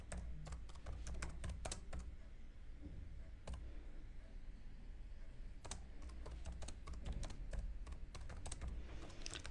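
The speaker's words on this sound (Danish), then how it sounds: "Så jeg skriver mit søgeord op her i søgeboksen." Search words are typed on a computer keyboard in clustered bursts of quick, close key clicks with brief pauses between them, against a quiet room and no talking.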